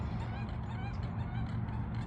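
Three ducks call back and forth outdoors, a steady stream of overlapping honking quacks over a low rumbling background.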